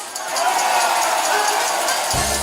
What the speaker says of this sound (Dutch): Dames en heren, geef voor een groot applaus.